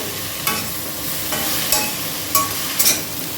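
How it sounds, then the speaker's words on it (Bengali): Drumstick flowers sizzle steadily in hot oil while being stirred, with a constant frying hiss and a few sharp scrapes of a spatula against the pan, close and loud, with no voices. "আমরা সজনে ফুলটা তেলে দিয়ে দিলাম দিয়ে এবার নাড়াচাড়া করে নিচ্ছি"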